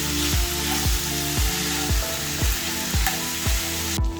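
Sausage sizzles steadily in a pan over a medium-low flame, a constant frying hiss broken by regular low thumping pulses.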